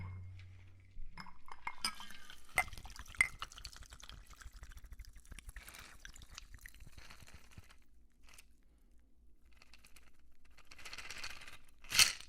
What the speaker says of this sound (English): now we're going to go ahead and pour into the